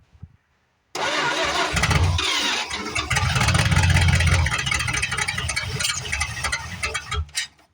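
A neglected 1973 Plymouth Fury III engine cranks repeatedly, sputtering and straining without catching, loud and close, before cutting off abruptly.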